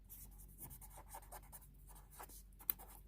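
Pen strokes scratch and rub across paper while equations are written by hand for a cube-roots-of-unity math lesson, a steady run of close, quiet scribbling with one sharp tap near the end.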